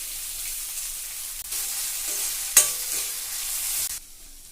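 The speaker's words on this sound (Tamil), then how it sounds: "எண்ணெய் சூடாயிடுச்சு. உருளைக்கிழங்கு பச்சை மிளகாவை வதக்கிக்கலாம்." Potatoes and green chilies sizzle and fry in hot oil, a bright continuous hiss broken by a sharp stir or clatter partway through before the sound cuts back.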